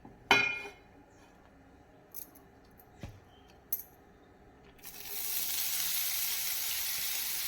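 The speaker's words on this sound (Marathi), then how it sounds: "तेलावर आपण छान अशा भाज्या परतून घेऊया म्हणजे त्या थोड्या मऊ होतील" Chopped vegetables hit hot oil in a kadhai, a loud sizzle erupting after a few scattered clinks and taps, then settling into a steady, bright frying hiss that holds to the end.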